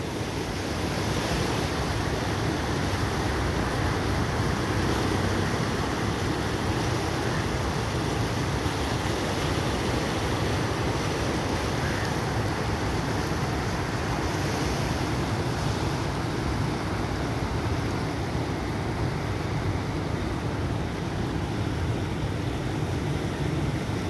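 Powerful roar of floodwater surging through Taunsa Barrage on a high-flow day, a dense, continuous rushing wash that stays loud and steady throughout with no pauses.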